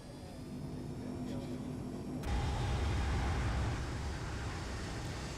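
Boeing 757-200 jet engines rumble steadily while taxiing in X-Plane 11, a broad low roar that swells louder after about two seconds and then holds constant, with no talk.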